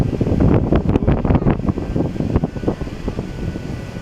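Wind buffets the microphone on the beach at Umiray, Dingalan, Aurora, a loud, gusty rumble with a rough roar that slowly eases toward the end.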